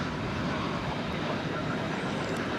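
A Frontier Airlines Airbus A320neo arrives at DFW airport after a flight from Cancun, making a steady, broadband roar of jet engines that holds throughout without clear peaks or pauses.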